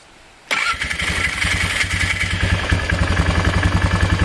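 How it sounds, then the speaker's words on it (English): An ATV's small engine, a Polaris Magnum 325, cranks with a rough, rapid starter whir, then keeps up a steady rhythmic mechanical clatter, loud and close, with no voices. "starter sounds a little bit rough, but it definitely works"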